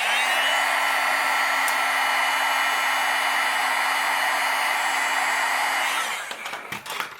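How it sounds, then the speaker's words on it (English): A heat gun blows steadily and loudly as it melts embossing powder on a papercraft stamping project, holding a constant whirring hiss for about six seconds before cutting off, followed by a few faint handling clicks. "And then you take your heat gun and melt it."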